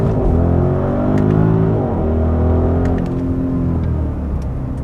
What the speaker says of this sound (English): you start it up, you know it's a V8